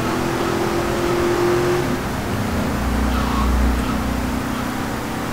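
A car engine in GTA Vice City drones steadily and loudly, its pitch shifting as it revs lower and then climbs again, with a low rumble swelling in the second half and no talk.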